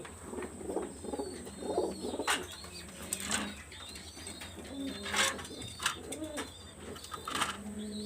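Young pigeons kept in a coop with a female coo softly and repeatedly, with a few wing flaps and faint chirps, close and fairly quiet.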